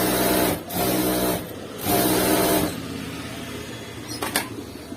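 A sewing machine stitches a shirt, running in short steady bursts with brief pauses between them, fairly close and moderately loud.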